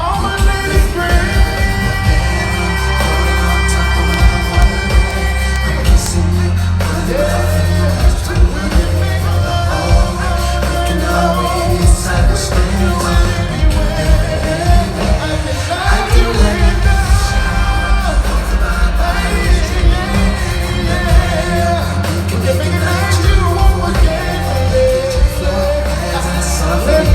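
A live R&B concert crowd at an arena in Newark, New Jersey, screams and cheers steadily throughout, a loud dense roar with whoops and yells rising over amplified music.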